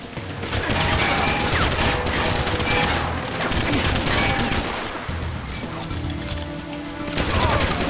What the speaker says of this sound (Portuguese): Quem que tá atirando?